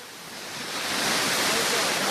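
Elephant Falls, a waterfall in Meghalaya running with a fairly low flow, gives a steady broadband rush that swells slightly and then holds at a constant, moderately loud level, with no voices over it.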